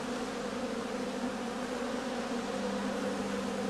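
Honey bees hum around straw heather skeps at an apiary in late autumn, a steady, even buzzing drone close by that continues unbroken throughout.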